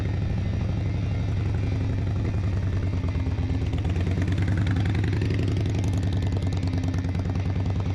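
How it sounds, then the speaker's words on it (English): A 2023 Indian Chief motorcycle's big V-twin engine running at low speed while riding figure eights, a loud, steady, throbbing rumble with a rapid pulse throughout. "Into figure 8s we go."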